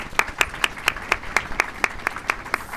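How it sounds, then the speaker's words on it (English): Audience applause at a film workshop event, with rhythmic, evenly spaced claps standing out over a light bed of clapping, fairly close and steady throughout with no speech. "Give her a round of applause."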